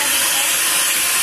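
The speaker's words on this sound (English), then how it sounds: "now we have to beat it again with the beater nicely" An electric beater whips icing sugar and egg yolk for crunchy homemade cookies, a loud, steady whirring hiss that holds without a break for the whole short stretch.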